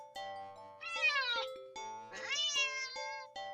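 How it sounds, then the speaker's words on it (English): A cat meows sharply and close up: two long, rising-and-falling meows, separated by shorter clipped calls, over a faint steady tonal background. "the cat meows sharply at you"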